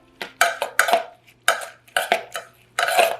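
Fresh pico de gallo with lime juice and salt being stirred in a bowl, a run of wet scraping and clinking bursts from a utensil against the bowl, close and fairly loud, with short pauses between strokes.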